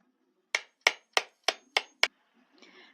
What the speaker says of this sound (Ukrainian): Як стукає молоток по дереву, коли сусідський хлопчик ремонтує лавку